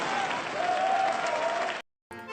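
A film audience in Nisekoi breaks into loud, sustained applause that holds steadily for nearly two seconds before cutting off abruptly, then resumes briefly.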